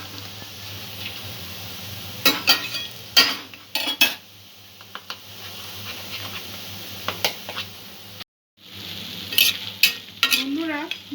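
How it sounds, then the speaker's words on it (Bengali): Flattened rice (poha) fries crisp in a pan over a low-to-medium gas flame, with a soft continuous sizzle broken by repeated close scrapes and clinks of a utensil stirring against the pan. "লাইট ব্রাউন করে আমি ভেজে নেব, একটু ক্রিস্পি করে ভাজতে হবে।"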